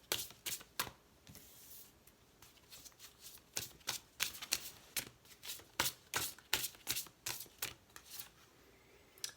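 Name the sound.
sacred feminine oracle cards shuffled and pulled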